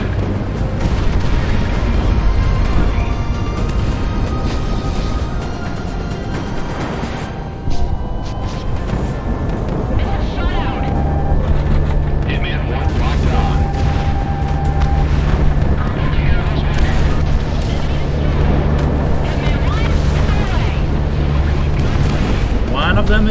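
Bombs exploding during video game air combat, a dense, continuous roar of blasts and engine rumble that stays loud and close throughout, with low booming layers building partway through.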